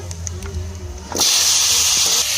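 Cut papaya dropped into hot oil in a pan used for frying fish: a quiet kitchen murmur gives way to a sudden loud, steady sizzle that holds to the end.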